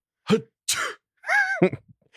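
A short burst of noisy, explosive vocal sounds, like a sneeze and a throat noise, breaks out close by in quick succession.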